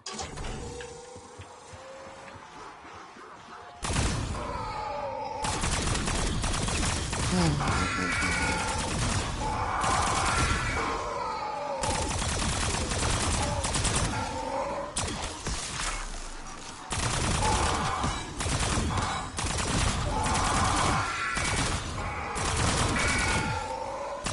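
Rapid bursts of ray gun fire in Call of Duty Zombies come in repeated loud volleys separated by short gaps, while a voice talks over the game action.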